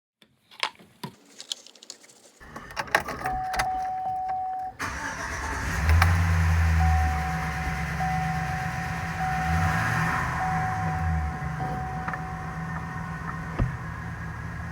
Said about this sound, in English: I'm going to fire it up. I'm going to idle it a little bit, rev it up